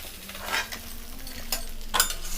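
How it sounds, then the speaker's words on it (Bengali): Small parshe fish fry in oil in a pan with a steady soft sizzle, broken by a few scraping stirs and utensil clinks nearby. "যে মাছগুলো আমরা দিয়েছিলাম সেগুলো একে একে করে ভাজা হয়ে গেছে"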